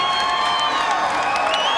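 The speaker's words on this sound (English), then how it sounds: "First off, a round of applause." An arena crowd applauds and cheers for two boxers after a ten-round cruiserweight title fight, a loud, dense wash of clapping with whistles and shouts.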